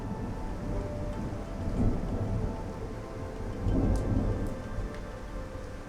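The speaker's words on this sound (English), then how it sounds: "we're leaving Osaka, and there's a lightning storm coming in" Thunderstorm with steady rain pouring down, low thunder rumbling and swelling twice amid the constant hiss of rainfall, heard while leaving Osaka; no voices.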